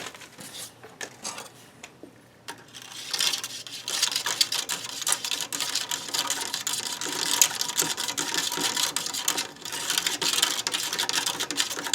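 Gritty, sandy rustling and crunching of MRE powdered drink mix shifting inside a pouch, close and continuous with rapid granular crackle, no talking.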